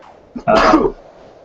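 A single short sneeze, close and loud, with a brief sharp intake just before it and quiet room tone around it.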